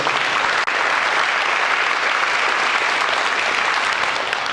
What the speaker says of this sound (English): Absolutely give them a round of applause